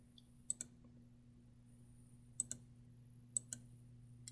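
Mouse clicks on a computer during a software tutorial, three pairs of quick double clicks spread apart, crisp and close over a low steady hum with no talk.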